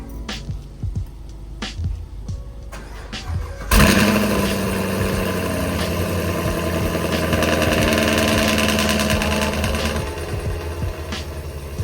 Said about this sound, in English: you guys could hear it like a cold start with the quick headers